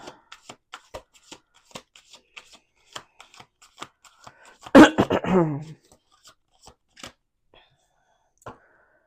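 Cards are shuffled and laid out during a card reading, with soft repeated taps and flicks throughout and one longer riffling burst near the middle, all close and quiet.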